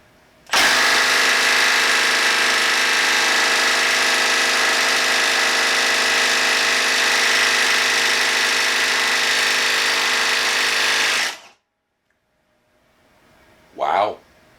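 Milwaukee M12 3/8-inch stubby impact wrench hammering loose a bolt torqued to 150 foot-pounds, a loud, steady, buzzing rattle sustained for about eleven seconds before cutting off, followed by a brief faint whir.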